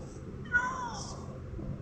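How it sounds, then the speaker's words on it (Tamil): A Minecraft cat gives a single soft meow over steady background game noise, faint and brief, with no one speaking over it. "பூனை இந்த இருக்குது"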